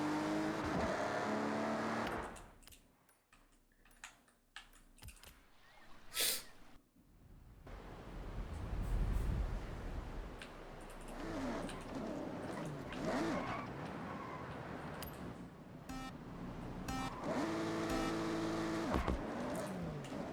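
A race car in the Forza Horizon 6 video game revs and accelerates with rising and falling engine tones, dropping out briefly before a loud roaring pass and more revving, heard alone without talk.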